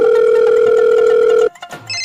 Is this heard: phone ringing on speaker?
yes